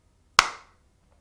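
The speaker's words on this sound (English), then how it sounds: "I'm gonna clap." A single sharp hand clap rings out once in a quiet room, crisp and close, with a brief decay and nothing else around it.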